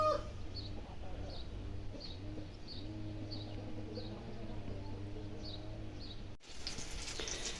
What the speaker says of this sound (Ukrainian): Курка десь засокотала вже все.